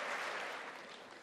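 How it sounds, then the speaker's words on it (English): Sustained applause fills a State of the Union chamber, Nancy Pelosi among those clapping: a dense, steady wash of many hands at moderate level, with no voices on top. "Pelosi is only clapping right now to rub it in Cortez's face"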